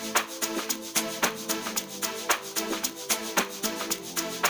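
A smooth synth plays a melody in an amapiano beat made in Caustic 3, with rhythmic pulsing chords and evenly spaced percussive hits repeating steadily throughout.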